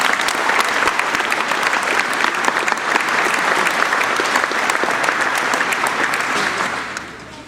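Sustained applause from a crowd celebrating a high school baseball state championship, dense steady clapping throughout that tapers off at the very end.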